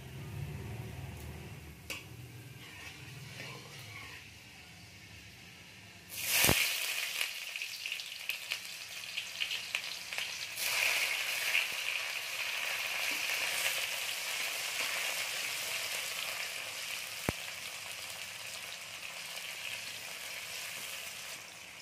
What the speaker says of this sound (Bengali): পেঁয়াজটাকে আমরা একটু লাল লাল করে ভেজে নেব।